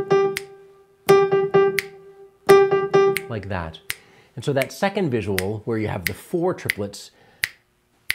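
Crisp finger snaps click in a steady, evenly spaced pulse, first alone with tones between them, then continuing under a man's speech.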